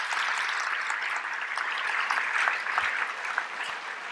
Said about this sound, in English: Could you please give them a big round of applause?